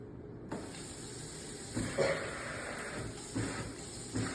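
A steady hissing spray starts after a brief silence and runs continuously, with a few louder bursts along the way, close and fairly loud.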